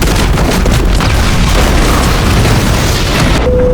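A loud, continuous boom from birds striking an airliner's engines in the film Sully, a heavy low rumble that fills the whole stretch before cutting off abruptly near the end.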